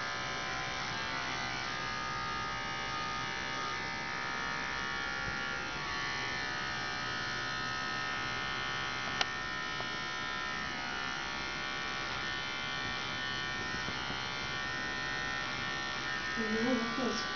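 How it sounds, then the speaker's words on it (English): Electric clippers buzz continuously and steadily, close up, while shaving fur around a dog's hock at a veterinary IV catheter site; a faint voice comes in near the end. "I'll go ahead and shave around his hock."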